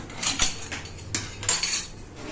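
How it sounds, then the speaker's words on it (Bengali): Small mourola fish are cut with a knife on a kitchen surface, giving a few sharp, close metallic scrapes and clinks spaced irregularly over two seconds. "এই দেখো মরলা মাছ এবার এই মাছটা কাটতে হবে"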